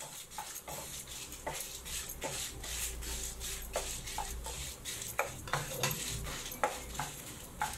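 Dried red chillies stirred and roasted in a pan after coriander seeds and cumin, with repeated scraping and clinking strokes and a faint sizzle, quiet and close.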